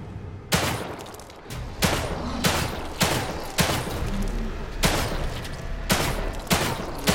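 Repeated heavy gunshots in the video game The Evil Within 2, loud booming blasts roughly every second with a dense ringing rumble between them, no talk.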